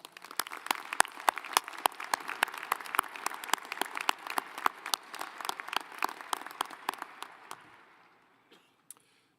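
Audience at a spring university graduate and doctoral commencement ceremony breaks into sustained, dense applause that carries evenly for about eight seconds, then thins out and fades, with a few last scattered claps near the end.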